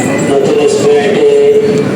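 A metro train pulls into the platform at Esplanade metro station in Kolkata, with a steady, loud rolling rumble and a thin sustained metallic whine running through the whole stretch, no voices.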